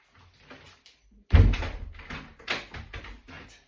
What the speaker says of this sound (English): let me shut the back door